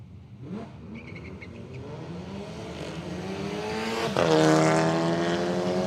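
A green Holden Premier drag car at Willowbank Raceway, slow to get going on its pass: the engine climbs in a long rising revving sweep, then surges louder with a sudden jump near the end, fairly close and alone.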